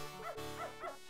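A dog in the Beneath a Steel Sky adventure game gives three short, evenly spaced yelping barks, fairly quiet and alone.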